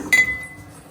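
A glass pot among decor items at a wholesale gift shop gives a single bright, ringing clink that decays slowly, close and clear, with no talk over it.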